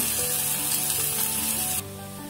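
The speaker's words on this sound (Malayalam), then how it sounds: "ഈ ചെറിയ ജീരകാണ് നമ്മൾ ചേർത്ത് കൊടുക്കുന്നത് ഒപ്പം തന്നെ ഈ സവോളയും കൂടി ചേർത്ത് കൊടുക്കാണ് ഇത് നന്നായി ഒന്നിനി വയന്ത് വരട്ടെ" Cumin seeds and onions sautéing in a pan for bhindi masala make a dense, loud, close sizzle that holds steady, then drops a little in level near the end, with no talking.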